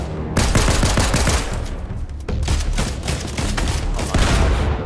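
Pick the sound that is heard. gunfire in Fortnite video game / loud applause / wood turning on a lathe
gunfire in Fortnite video game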